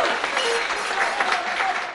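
An audience at a live Mazandarani music show claps loudly and continuously, a dense wash of applause with no break.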